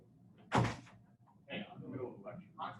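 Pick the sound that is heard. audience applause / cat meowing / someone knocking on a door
someone knocking on a door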